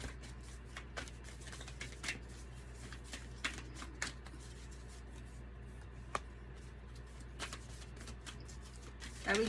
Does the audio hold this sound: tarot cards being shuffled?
yes